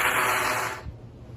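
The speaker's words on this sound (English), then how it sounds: "when you blow you get this, you don't get anything, all you get is wind." A trumpet player blowing air without buzzing the lips, producing a loud breathy hiss of rushing wind that fades away after about a second.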